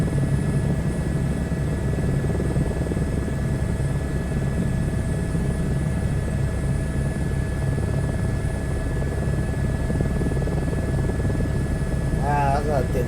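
Helicopter in Microsoft Flight Simulator 2024 on a coastal hoist rescue flight, a constant loud rotor and turbine drone with steady whine tones, continuing unbroken, with a voice briefly speaking near the end.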